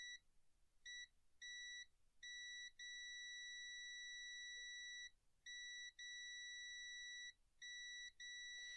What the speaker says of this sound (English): it might just be the way the multimeter beeps